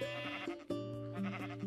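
A Minecraft sheep bleats close by, a nasal wavering baa repeated in quick succession over roughly a second and a half.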